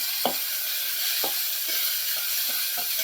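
Diced tomatoes and onions sizzle steadily in a pan, a constant bright frying hiss broken by a few soft scrapes of a stirring spoon.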